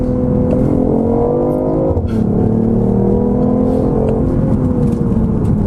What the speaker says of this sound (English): You've got this nice whine from the electric motor, and then you've got, you know, a throatiness from the ICE.